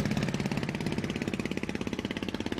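A motorboat engine runs with a fast, even put-put pulse, close and steady with no voices.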